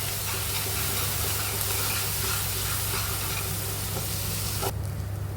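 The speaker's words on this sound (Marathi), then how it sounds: "आता याला छान मिक्स करून घेऊयात।" Garlic-chili thecha being stirred into a masala in a hot pan, a steady close sizzle and frying hiss with soft scraping that runs throughout, then thins and drops off near the end.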